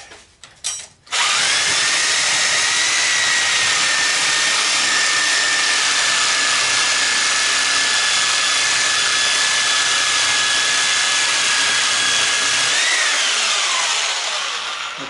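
A corded Craftsman power saw cuts into an old golf cart charger being scrapped for copper, holding a loud, steady whining drone for about twelve seconds before winding down.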